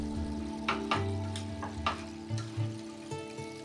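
Yellow rice stirred through its sauce in a hot pan with a little sesame oil, a gentle sizzle running underneath several distinct scraping strokes of the spoon, close and fairly quiet, with no talking.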